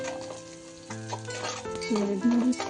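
Small pieces of chopped garlic fry in a pan for egg noodles, a soft sizzle with stirring scrapes, accompanied by faint tonal background sounds.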